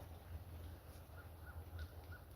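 Crows caw faintly in the distance, about four short, evenly spaced calls over a low steady hum, with no voices.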